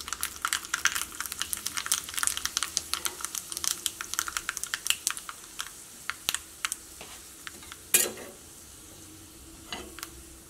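Red shallots, dried chilli and fenugreek frying in hot oil give off a steady crackling sizzle of dense, rapid pops up close, easing into sparser spits toward the end.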